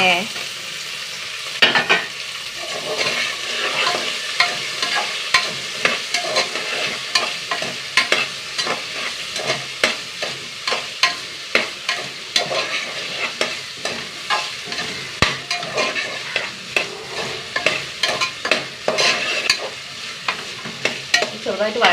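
Onions and potatoes sautéing in a pan while being stirred, with a continuous sizzle and repeated scraping strokes of a spoon at a steady rhythm, loud and close, with no talking.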